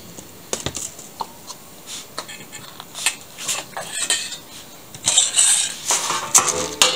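Broccoli florets are tossed in a bowl with a utensil, producing irregular clinks and clattering scrapes that grow busier and louder toward the end, with no talking.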